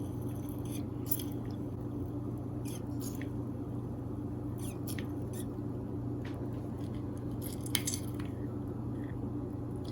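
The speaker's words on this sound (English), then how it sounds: "Starting by juicing half of a lime here." Half a lime pressed in a hand juicer, soft wet squishing and faint dripping over a low steady hum, with a few sharper clicks of the juicer scattered through.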